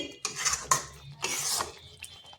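A spoon scrapes and clinks around a pot as chopped coriander is mixed into a bottle gourd curry, in a few short close bursts with pauses between.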